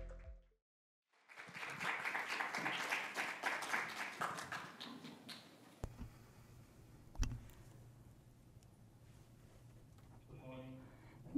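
An audience at a conference stage session applauds to welcome a committee chairman, a sustained burst of clapping after a brief silence, then fading into scattered claps and room noise as a voice speaks near the end.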